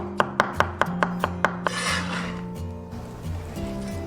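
A knife cuts a cucumber into thin strips on a board, seven quick, evenly spaced chops followed by softer rubbing and scraping sounds, heard up close.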